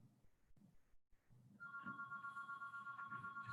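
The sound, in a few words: telephone ringing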